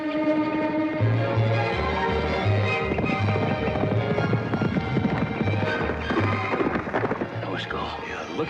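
Two horses race across open ground in a 1959 Western, one of them named Skeeter, with steady, rhythmic drumming hoofbeats under a dense, full soundtrack and voices.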